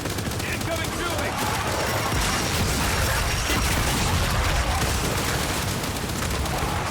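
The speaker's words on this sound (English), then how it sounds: "Incoming shooting!" Gunfire rattles through a Gears 5 firefight on Xbox One: dense, continuous bursts of shots and booming impacts fill the scene at a loud, steady level, with no break.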